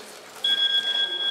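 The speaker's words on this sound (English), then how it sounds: "thankfully there's a countdown timer on the iPhone, so when your time is up," An iPhone countdown timer alarm sounds as a steady, thin electronic tone that starts abruptly and holds, fairly quiet against the room.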